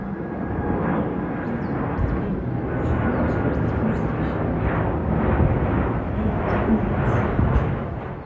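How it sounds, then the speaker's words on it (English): A Cargolux Boeing 747 freighter on approach to JFK makes a broad, steady jet roar that swells slightly as it nears, with outdoor background noise underneath. "here comes another cargo Lux 747 freighter"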